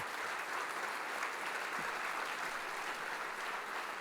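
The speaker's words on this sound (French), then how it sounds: "Un torrent d'applaudissements pour Pia Silva, à la voix et à la harpe." An audience at an academic year opening ceremony applauds a singer who also plays the harp, a steady, even wash of many hands clapping, moderately distant, with no voices over it.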